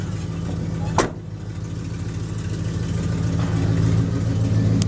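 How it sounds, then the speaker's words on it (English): A car engine with an exhaust leak and a full 3-inch exhaust idles close by with a steady low rumble and a faint ticking puff in the exhaust, after a short sharp click at the start. "it fires right up, and you can hear the little bit of exhaust leak"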